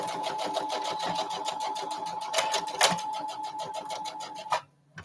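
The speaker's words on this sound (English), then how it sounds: "So I just went in and sewed that, gave that Velcro a stitch." A sewing machine stitches Velcro onto a bag in a sewing studio, running in a steady, rapid mechanical whir for about four and a half seconds before it abruptly stops.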